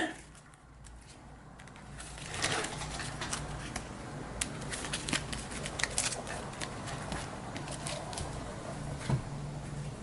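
Deck of game cards being shuffled at a tabletop during a card game, repeated riffling and crisp snapping bursts at close range, quiet overall with steady handling noise throughout.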